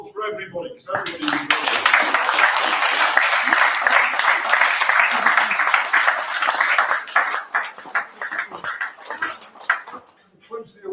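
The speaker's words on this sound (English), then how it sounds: "Can you say let's have a final round of applause for everybody," A university awards ceremony closes with sustained audience applause, many hands clapping steadily and loudly for several seconds before thinning into scattered claps, with brief voices heard at the start and end.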